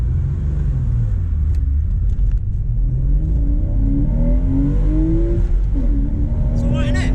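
Porsche 986 Boxster S engine pulling steadily as the car accelerates, a continuous close rumble with pitch rising through the gears, voices chatting over it.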